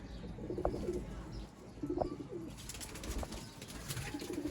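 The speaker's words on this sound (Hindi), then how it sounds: "ये जी दोस्तों उस्ताद जी के बड़े कबूतर" Several large Sialkoti breeder pigeons coo in low, repeated phrases at a steady rhythm, each call close and clear against a soft outdoor background of faint chirps and ambient noise.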